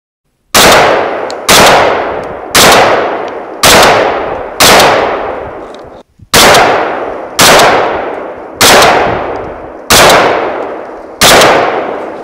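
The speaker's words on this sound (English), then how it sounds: "with this target, we could virtually set it up at any distance and we could do some fun, fast, realistic shooting" A .223 rifle fires at self-healing targets outdoors: ten loud, sharp shots at a steady pace about a second apart, each with a short decaying ring, and a brief pause partway through.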